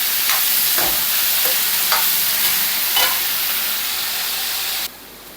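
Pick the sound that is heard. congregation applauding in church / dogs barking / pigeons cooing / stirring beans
stirring beans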